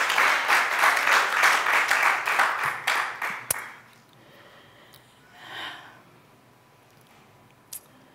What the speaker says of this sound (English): Y'all should give the Lord a hand clap of praise over that one